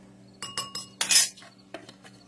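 A spoon mixes melted butter and garlic powder in a small bowl, producing several close, light clinks and taps against the dish in quick succession before falling quiet.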